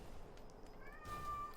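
A cat meows at an open window, a single drawn-out cry that sounds faint and distant over a low background hum.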